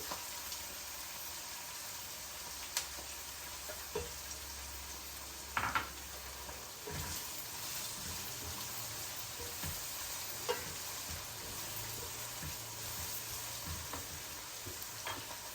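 Curry leaves fry in oil for a South Indian tomato bath, with a faint continuous sizzle and occasional soft knocks of a spoon stirring the pan, heard quietly and at a distance with no talking.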